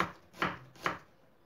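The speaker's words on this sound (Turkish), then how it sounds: "Bir tane orta boy soğanımız var. Hemen onu ortadan ikiye böldüm ve çok ince doğrayalım." A medium onion, halved, being finely sliced with a knife: two crisp, close knife strikes against a cutting board, with no talking.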